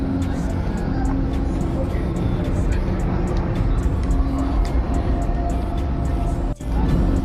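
Car driving past on a city street in Old Quebec City, a continuous loud rumble of traffic filling the whole stretch, with voices talking nearby over the noise.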